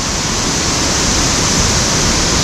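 Rushing water of Ukkada Waterfalls in the Bhadra Tiger Reserve forest during the rainy season, a loud, steady broadband roar that holds unchanged from start to finish with no voices.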